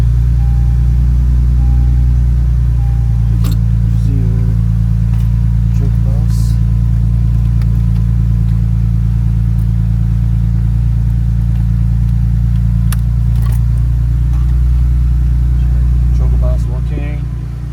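A Lexus IS car engine runs at a steady, loud, low rumble close by throughout, with a few faint clicks and small cabin noises over it and no talking.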